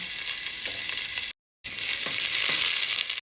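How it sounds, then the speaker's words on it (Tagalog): Two medium onions sautéing in a pan for lomi, a dense loud frying hiss with soft stirring thumps underneath, cut by a brief moment of silence before resuming. "Unahin natin igisa ang ating sibuyas."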